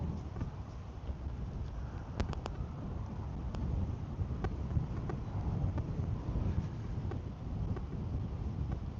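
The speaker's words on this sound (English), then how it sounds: "wind's really starting to pick up" Strong wind building over a western Montana lake, a continuous low rushing roar buffeting the microphone, with faint water lapping and a few light knocks against a boat, no talking.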